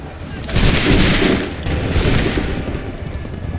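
A musket volley from massed infantry in Assassin's Creed III at Lexington, Concord and Bunker Hill: two heavy, crackling bursts of gunfire about a second and a half apart, loud and close, each rolling into a ragged rumble.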